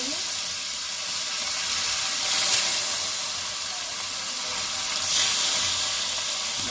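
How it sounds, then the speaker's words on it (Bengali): Bhetki fish frying in hot oil in a kadai gives a bright, steady hiss and sizzle, loud and close, swelling twice briefly, with no clear talk over it. "মাছগুলো ভেজে নেবো লাল লাল করে।"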